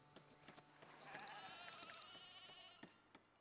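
Sheep in the colony-building game Foundation bleat several times, quavering calls overlapping against faint background game ambience, with no talk.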